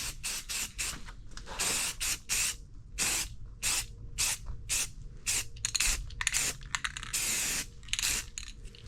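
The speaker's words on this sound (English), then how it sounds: "Give her a quick spray down with some satin." Repeated short bursts of satin aerosol spray paint hiss on and off in quick succession on a Trans Am, close and fairly loud, with brief pauses between sprays.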